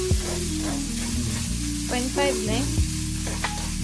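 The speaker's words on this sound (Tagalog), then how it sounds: "Luto tayo ng masarap na fried rice." Fried rice sizzles and crackles in a hot pan as it is stirred, a constant frying hiss up close, with a few brief words spoken over it.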